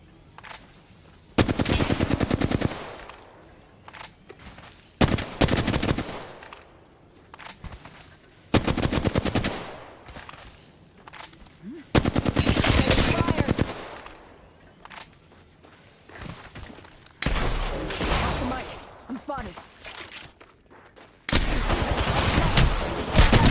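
Gunfire from the shooter video game Apex Legends rattles out in about six loud bursts of rapid automatic fire, separated by short quiet gaps.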